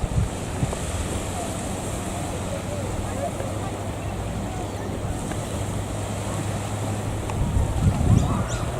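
Sea waves wash continuously at Balmoral beach in Sydney, a broad steady surf roar mixed with wind buffeting the microphone, a bit louder toward the end.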